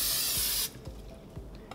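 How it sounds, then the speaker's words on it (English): Cooking spray hisses loudly for well under a second onto the metal grid of a Big Boss air fryer, then stops, leaving faint clicks and handling sounds. "I'm gonna take a little bit of cooking spray"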